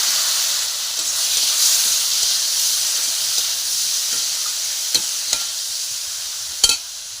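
Chutney ingredients fry in oil with turmeric and salt, giving a steady close sizzle and hiss with a few sharp stirring clacks toward the end.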